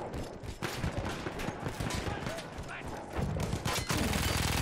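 Dense battlefield gunfire crackles throughout a Battlefield 1 match, rapid shots and bursts overlapping with distant explosions, while a voice talks over the action.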